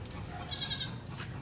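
A goat bleats in a short burst of a few quavering calls, fairly faint against a quiet background.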